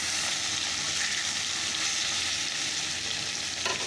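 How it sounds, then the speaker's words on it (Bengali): Fish pieces frying in oil give a steady, moderately quiet sizzle and crackle, continuous with no talking. "তো চলো মাছগুলো ভেজে নেই।"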